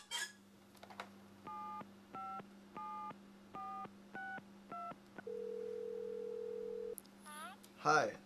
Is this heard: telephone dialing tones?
yes